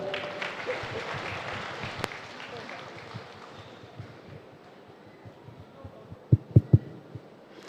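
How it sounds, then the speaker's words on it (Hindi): An audience at a spiritual seminar session for Shri Adi Guru Puja in Ratlam claps, the applause fading away over a few seconds. A few sharp low thumps follow near the end. "जोरदार तालियां।"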